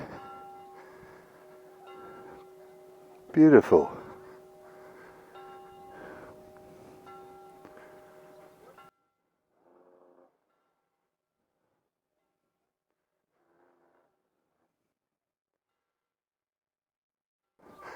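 Church bells ring out in a steady, resonant peal for several seconds near a beach in the Scottish Highlands, then fade, leaving a long near-silence; a voice speaks briefly at one point.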